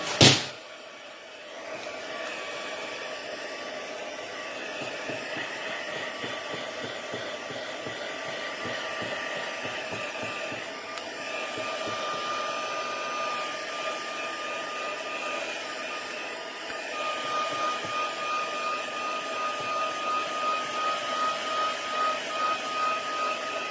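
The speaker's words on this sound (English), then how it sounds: "I'm just going to bring my heat tool and try to dry this off a little bit before I start sticking it down" Heat tool blowing hot air to dry wet paper, a loud steady whirring blower tone with a faint fan whine that runs unbroken, after a sharp click as it switches on.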